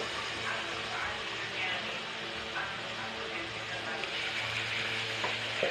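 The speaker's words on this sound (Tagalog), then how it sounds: "Kailangan natin may panangga tayo kasi talsikan yung mga mantika ba." Fish fries in hot oil, a dense, close crackling sizzle with splattering pops throughout, steady and fairly quiet, while a person talks briefly over it.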